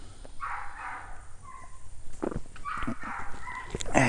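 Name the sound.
dog barking in the background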